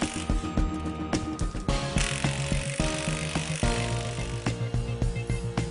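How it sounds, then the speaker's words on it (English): Socket wrench ratcheting as bolts are tightened on a cold shrink cable joint, a steady run of close, rhythmic metallic clicks and ratchet strokes with no talking. "Alternately tighten the bolts with a socket wrench until the bolts shear off."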